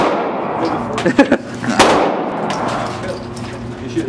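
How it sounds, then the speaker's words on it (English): Shotgun blasts at a Las Vegas gun range: a couple of sharp, close reports with metallic clatter, mixed with indistinct talk and room echo. "Shotgun is so tough."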